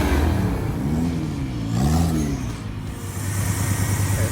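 A car engine runs steadily at a drag-and-drive event, its mid-pitched hum rising and falling in a few revving swells before holding at a rough, continuous idle, loud and close with no voices.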